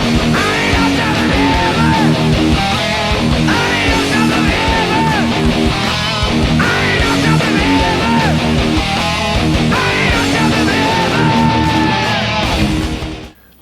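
A chorus riff on heavily distorted metal guitars, played as a full band mix with a vocal line, loud and dense, cutting off abruptly at the end.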